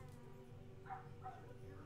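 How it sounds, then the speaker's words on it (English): A neighbor's dogs bark and yip faintly in the distance, a few short yelps under a low steady hum and light talking nearby. "They have the most obnoxious dogs."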